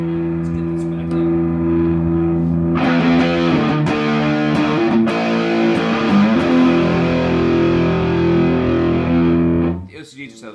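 A heavily distorted electric guitar rings out in sustained chords, loud and gritty, then cuts off near the end.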